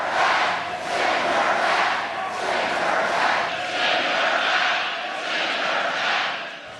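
A large crowd at a Donald Trump rally chants "send her back" in unison, a loud rhythmic group cry repeating in steady waves for several seconds.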